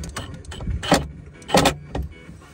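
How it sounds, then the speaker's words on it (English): A power drill driving screws into a live edge wooden countertop during a van build, short bursts of whirring and clunking at close range, several separate pulses with quiet gaps. "Ripping screws."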